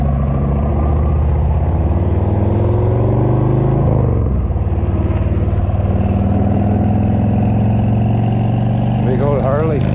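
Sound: Harley-Davidson motorcycle engine idling

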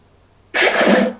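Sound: coughing

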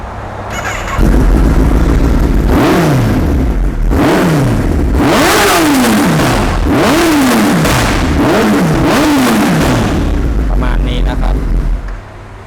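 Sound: motorcycle engine revving with aftermarket exhaust

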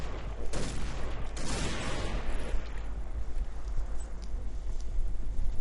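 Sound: Barrett rifle gunfire in video game Point Blank

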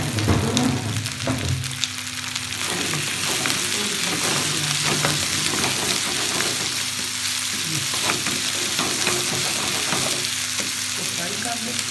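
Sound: potatoes frying and being stirred in a pan

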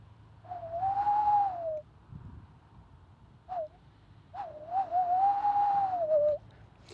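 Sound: whistled imitation of owl call

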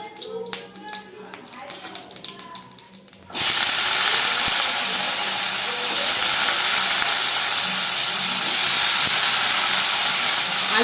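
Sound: potatoes frying in oil

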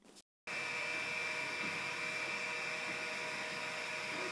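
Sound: Artillery Genius Pro 3D printer printing

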